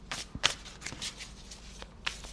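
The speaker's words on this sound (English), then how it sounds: "Let's shuffle a little bit." A deck of clear quartz tarot cards is shuffled by hand, giving soft riffling bursts and sharp card snaps, close and fairly quiet with no voice over them.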